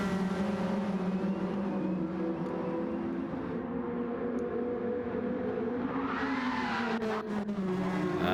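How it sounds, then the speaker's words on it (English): A race car in a sim racing series holds a steady, loud engine drone that rises in pitch late on, with a tire squeal and front brakes locking up, and no talking. "we hear a little tire squeal from what I believe is Rocker's car, and maybe locked up the front brakes a little bit"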